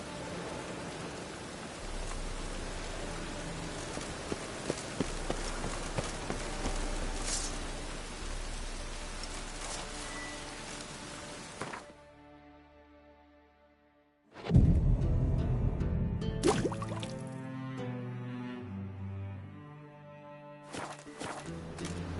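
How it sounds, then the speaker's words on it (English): Steady rain hisses for several seconds in The Witcher 3: Wild Hunt, briefly drops away, then returns with rumbling and shifting game ambience; no one speaks. "Looks like rain."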